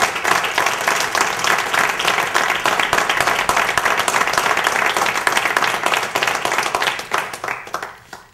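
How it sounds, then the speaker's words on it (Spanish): A crowd at a club gathering and awards ceremony gives warm, loud applause, a thick sustained clatter of many hands that thins into a few scattered claps near the end. "pediré un aplauso a Paco y en nombre del Ayuntamiento"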